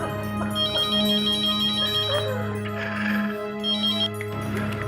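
Indoors, a mobile phone plays an electronic ringtone as a repeating melodic pattern. It is clear and fairly close, with a steady low hum underneath.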